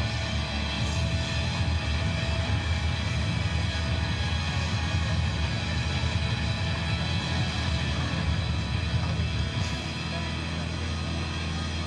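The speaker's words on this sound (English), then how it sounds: "As the aircraft passes, please notice the wing leading edge slats and large powered lift wing flaps." A C-17 military cargo aircraft passes, its dense low engine roar steady and loud throughout the whole stretch with no break.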